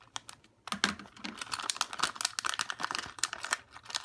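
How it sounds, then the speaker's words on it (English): Scissors cut open the top of a foil LEGO minifigure packet, close up, with rapid crinkly snips and rustling plastic that run continuously after a short quiet start. "Very carefully cut the top."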